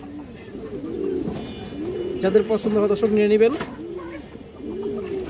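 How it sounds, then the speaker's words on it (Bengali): Lal Khaki pigeons, including a female, cooing in repeated soft, low, throaty phrases close by, steady and moderately loud, while someone talks over them in parts. "লাল খাকি মাদিরা অনেক সুন্দর একটা কবুতর দর্শক"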